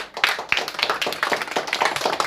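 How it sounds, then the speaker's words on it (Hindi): An audience at a science coaching centre event claps hands in a dense, uneven burst of sharp slaps, fairly close and loud, lasting a couple of seconds. "क्या बात है, ताली कस के बजाइए।"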